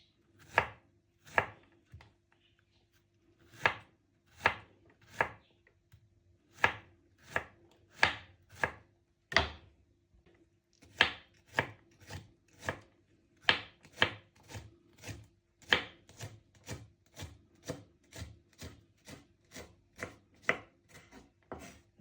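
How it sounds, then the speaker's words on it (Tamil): Thin, small pieces of snake gourd being sliced with a knife on a board, a steady run of crisp, close chopping strokes, some irregular and some in rapid sequence, with no talk. "நாங்கள் துப்புரவாக்கி இந்த புடலங்காயை அந்த சின்ன சின்ன துண்டுகளாக நாங்கள் வெட்டுவோம்"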